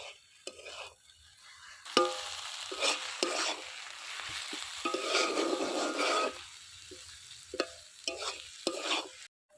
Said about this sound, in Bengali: শাক ভাজাটা আমার হয়ে গেছে